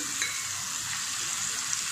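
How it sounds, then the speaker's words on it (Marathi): Blended onion paste fries in hot oil for spicy dhaba-style shev bhaji, giving a steady, close, bright sizzling hiss that holds evenly throughout, with no voices. "कांदे आपले व्यवस्थित असे तळून झालेले आहेत"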